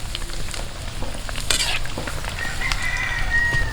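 Garlic frying with pork in a pan outdoors, a steady crackling sizzle with scraping stirring throughout, a rooster crowing faintly in the background.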